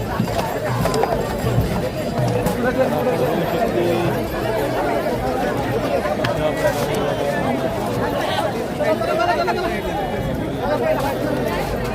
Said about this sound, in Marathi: बघा या ठिकाणी गर्दी झालेली आहे